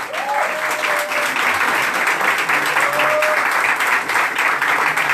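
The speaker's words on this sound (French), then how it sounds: "Il faut l'applaudir, au moins pendant une minute" A crowd at a hairdressing school's fashion show and diploma ceremony gives loud, sustained applause, an even, dense wash of clapping that lasts the whole stretch without letting up.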